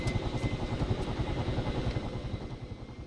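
Military helicopters spooling up in Arma 3: a steady, close rotor thump with rapid rhythmic chopping over a continuous engine whine, moderately loud and without speech.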